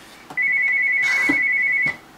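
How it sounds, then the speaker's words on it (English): A phone ringtone sounds as one steady electronic tone held for about a second and a half, clear and fairly close, with a few faint knocks around it and no talking. "I'm not even going to pick up the phone."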